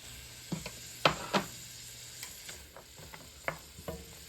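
A mix of sweet Italian peppers, including Carmen peppers, frying in a pan over medium-high heat: a steady close sizzle broken by scattered clicks and scrapes of stirring.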